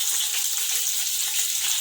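Slices of bitter gourd sizzling in a pan with salt and garlic, an even hissing crackle heard up close, steady throughout and free of speech.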